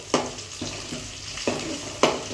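A spoon scrapes through onions and rock salt frying in oil in a pan, with a steady sizzle and about four distinct stirring strokes, close up and with no talk.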